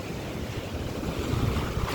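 Ocean waves wash onto a rocky shore littered with debris after a typhoon, a steady low roaring surge with gusty wind noise buffeting the microphone and swells building slightly louder toward the end.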